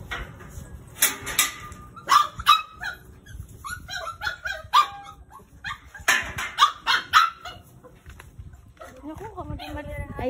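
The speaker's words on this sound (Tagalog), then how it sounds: "Mga aso." Several dogs bark repeatedly and excitedly in a rural barangay in Batangas, loud and close, with yips and whimpers between sharp barks while people talk nearby.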